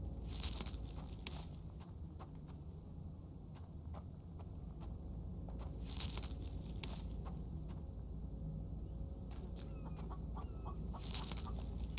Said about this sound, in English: And another chicken there, but I've got no room for you.